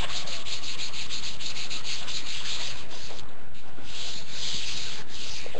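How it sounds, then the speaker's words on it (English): Sandpaper rubbed by hand over a painted flag surface to scuff up paint overspray, a steady close rasping scrub with rhythmic strokes that continue without pause and with no talking. "Any of the overspray, I just want to kind of scuff up a little."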